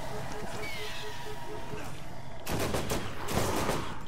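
Rapid gunfire bursts from the Borderlands video game crackle over constant game ambience, with a couple of loud sustained volleys near the end of the short stretch.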